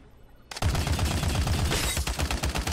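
Sustained machine gun fire from a big-magazine MG in the video game Farlight 84 starts abruptly after a brief quiet moment, then runs as a loud, rapid, steady stream of shots for the rest of the stretch.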